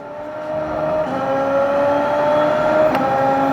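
A race car engine drones and climbs in pitch as it accelerates around a track, loud and steady, with a brief sharp tick near the end and no talk.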